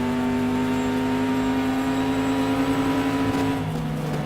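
A GT race car engine in the video game GTR 2 whines at a steady high pitch, loud and continuous, with the tone dropping slightly near the end.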